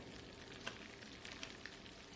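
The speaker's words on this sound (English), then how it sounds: "That sizzle, that instant reaction, that's when you know it's about to be good." Blackened tilapia fillet sizzling in a hot pan, a faint, steady crackling hiss with a few sharper pops scattered through it, heard alone.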